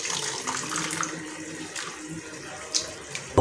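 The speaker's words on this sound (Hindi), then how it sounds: "अब हम इसको अच्छी तरह इस तरह मल लेंगे, ताकि इसके ऊपर जो भी मैल हो, कचरा हो, मिट्टी हो, वो उतर जाए।" Kachnar buds being rubbed and washed by hand in a bowl of water to loosen dirt and grit, giving steady close splashing and swishing with a few sharper sloshes toward the end, no talking.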